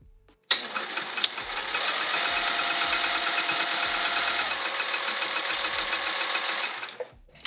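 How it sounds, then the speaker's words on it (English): A sewing machine stitching a rectangle onto a vinyl bag panel runs steadily for over six seconds, a close, loud whirring hum with a fast needle rhythm and a slight pitch drop partway through, then stops. "And let's sew on that rectangle."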